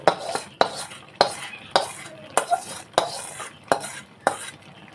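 A spoon repeatedly scrapes and clinks against a pan while stirring star fruit sweet pickle, sharp knocks at a steady rhythm of roughly two per second over a soft bubbling sizzle, close and moderately loud with no talking.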